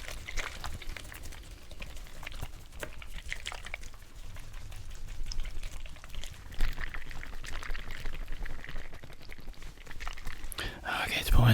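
Liquid stirred in a small container for a taste test during an ASMR cranial nerve exam, giving a soft, close, continuous swishing and clinking texture with breathy whispered sounds throughout.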